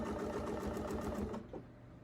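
A sewing machine stitches a quilt border along a template, running with a fast, steady, close whir that stops abruptly partway through.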